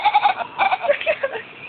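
A cat makes goat-like bleating cries, several quick wavering calls in a row, close and fairly loud with no talk over them.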